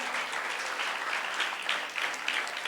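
A church congregation at a Good Friday service claps in a sustained, even round of applause from many hands, filling the hall without voices on top.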